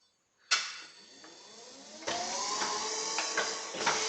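A Glimek dough divider machine kicks on after a short silence with a sharp start, then runs with a steady mechanical whir and a louder rhythmic clanking stage joining about two seconds in.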